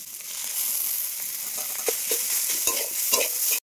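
Eggs frying in a pan with bitter gourd and onions, stirred with a utensil: a steady close sizzle runs throughout with scraping stirring strokes and a few sharp clacks, then stops abruptly.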